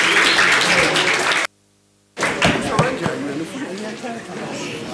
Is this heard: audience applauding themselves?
yes